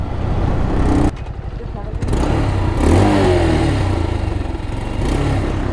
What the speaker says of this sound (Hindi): मेरे ख्याल से इसकी साइलेंसर की पैकिंग जो है ना वो लूज हो गई।